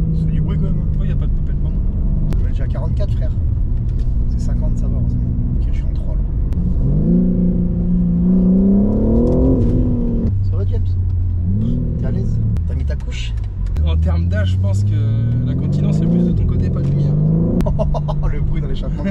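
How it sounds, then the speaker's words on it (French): A Cupra 400's engine revs and rumbles under acceleration, with rising and falling pitch sweeps as gears change and exhaust noise on each shift, close and loud throughout while people talk inside the car. "bruit dans l'échappement quand tu passes un rapport."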